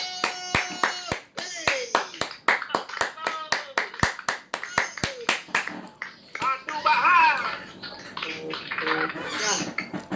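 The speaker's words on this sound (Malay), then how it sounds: "Ayo, berikan tepukan yang gemuruh untuk" Audience clapping at the King Blaster Workshop 1.0: a run of sharp, evenly spaced claps over the first several seconds, then a denser, busier stretch of noise with voices mixed in.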